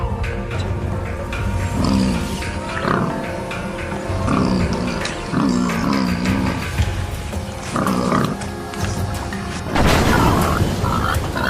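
A wild boar thrashes and grunts inside a trap, with loud thuds and bangs against the enclosure mixed with low grunts and squeals in irregular bursts, up close, and a voice talking over parts of it.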